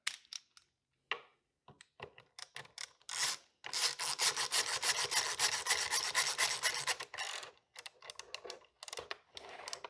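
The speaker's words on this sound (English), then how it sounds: "It works as a regular ratcheting screwdriver." A ratcheting screwdriver clicking close by, first a few scattered ticks, then a sustained run of fast, rasping ratchet clicks that trails off into scattered ticks again.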